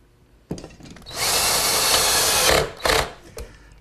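A power driver sends a screw into a walnut table rail from the inside, with a sharp click, a whirring drive of about a second and a half, then a short final burst, close and loud.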